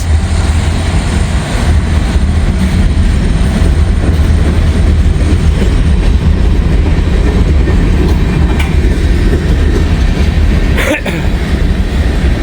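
An Amtrak train rolls past on elevated tracks, a loud, steady roar of wheels and cars sustained throughout, with no voices.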